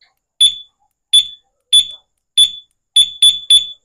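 Sharp, high electronic beeps from a two-way motorcycle alarm, about seven short chirps spaced irregularly, the last few coming in quick succession, loud and close.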